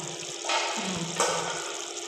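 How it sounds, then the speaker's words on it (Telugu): Chicken cooking water pours steadily into a pot, a continuous splashing rush that swells briefly midway, close by and fairly quiet. "ఈ వాటర్ అంతా దీంట్లో వేసుకోవాలి"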